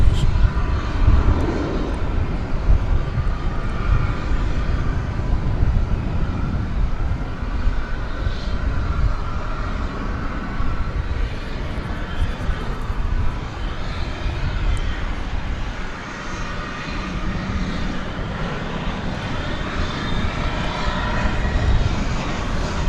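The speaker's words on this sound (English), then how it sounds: "It's flight 6275, operated by SkyWest Airlines" A SkyWest Airlines plane on flight 6275 at DFW Airport at night, a continuous broad engine roar rumbling steadily throughout at moderate distance, with faint voices in the background.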